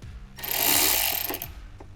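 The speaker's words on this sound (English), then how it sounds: "we will start by removing the 7mm bolt underneath" A ratchet works loose a 7mm bolt beneath the OEM front mud flap on a C8 Corvette, a single close burst of fast clicking and whirring lasting about a second, alone without talk.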